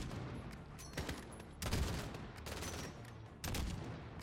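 Gunfire in the Highway of Death mission of Call of Duty: Modern Warfare, aimed at a vehicle's engine block: several separate sharp shots spaced irregularly, some doubled, each with a short rumbling tail over quiet background noise.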